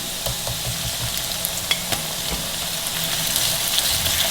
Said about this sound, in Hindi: अदरक लहसुन के पेस्ट को फ्राई करेंगे इसके अंदर, प्याज के अंदर।